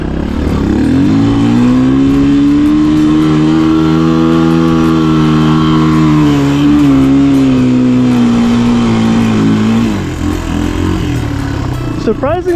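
A Honda XR200 200cc motorcycle climbs a steep hill in first gear, its engine droning loud and close with a steady, slowly falling pitch that settles as the climb eases near the end.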